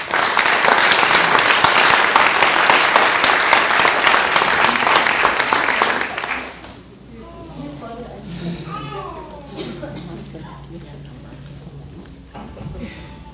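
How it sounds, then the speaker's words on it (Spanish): Loud, dense applause from an audience at a book launch event in Quito fills the first six seconds, then cuts off abruptly, leaving a quieter room with faint murmurs and scattered voices. "y les pido un aplauso para él por eso, por favor."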